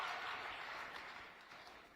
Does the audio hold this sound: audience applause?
yes